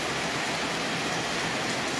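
Steady rain falling in Sicily on a late-May day, a dense, even hiss of drops on surfaces that continues without pause, close and moderately loud, with no voices.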